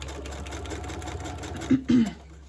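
A sewing machine stitches a journal cover in one short run, its motor whirring loudly near the end. A soft low hum and faint room noise sit under it.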